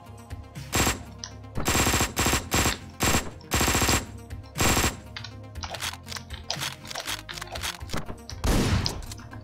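Rapid bursts of Uzi fire in Hotline Miami 2 come in several loud, close volleys separated by short gaps, followed by scattered thuds and impacts.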